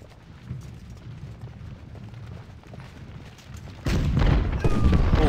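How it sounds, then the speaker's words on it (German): Cannon fire rumbles in the Civil War strategy game Ultimate General at the Battle of Fredericksburg, low booms under battle noise, then a loud, heavy blast about two-thirds through that keeps rolling to the end. "Kanonenfeuer."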